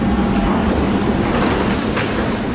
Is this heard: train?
yes